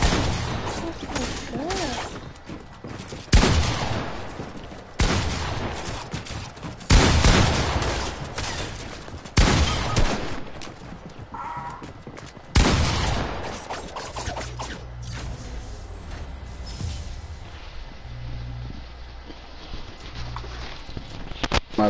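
Gunfire in an online shooter video game rings out as a series of loud, sharp shots spaced a few seconds apart, over continuous in-game background noise with players talking at times.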